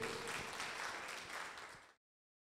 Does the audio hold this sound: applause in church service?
yes